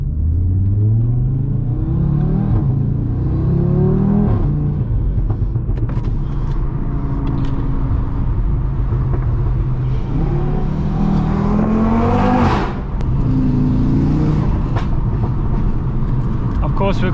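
Audi RS3 tuned to 570 hp, heard from inside as the engine revs and pulls hard with rising harmonics, then lifts into overrun crackle near the end, with a voice talking over the drone.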